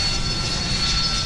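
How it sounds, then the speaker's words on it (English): Continuous sci-fi sound-effect mix of jet engine roar, drone hum and crackling firewood, a steady broadband whoosh with a high whine, unbroken and loud for just over a second. "a mix of jet engine, firewood, drone sound effects,"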